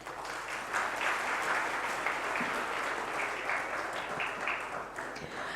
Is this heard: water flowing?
no